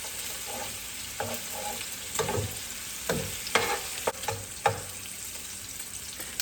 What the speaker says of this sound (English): I'm watching this bacon cook right now